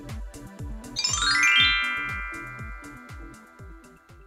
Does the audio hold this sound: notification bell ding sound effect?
yes